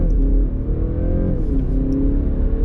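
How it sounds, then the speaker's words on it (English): A BMW 330e xDrive plug-in hybrid launching hard from a standstill, its engine note rising steadily and loud from inside the cabin, with no talking. "Just come to a full stop and step on the gas pedal."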